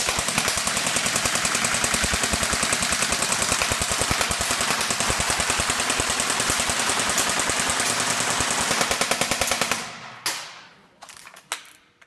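An airsoft Amoeba 13-inch Sugar Weasel rifle fed from a premium Amoeba midcap magazine fires a long full-auto burst of rapid, even cracks for about ten seconds, then stops and sputters out in a few scattered single shots.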